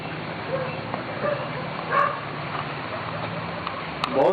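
Several dogs barking at night, scattered yips and barks at a distance under a steady background hiss, with a couple of sharper, louder cries near the middle and end.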